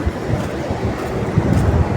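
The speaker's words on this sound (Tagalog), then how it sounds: "Malakas ng hangin." Strong wind roars steadily, a broad low rumble buffeting the microphone with gusts swelling toward the end.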